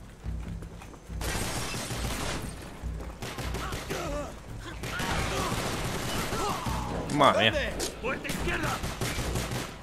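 Rapid bursts of gunfire from the video game Call of Duty Black Ops, dense and loud, with crashing and mechanical clatter mixed in, while players talk over the shooting.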